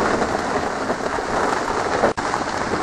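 Steady heavy rain drums on a clear plastic tarp in a forest, a dense continuous patter close overhead with one sharp tap near the end.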